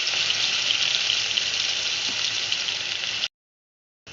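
Garlic and onion paste sizzles steadily in hot oil in a fish-frying pan, a loud continuous hiss that cuts off abruptly, leaving a short silence before it resumes.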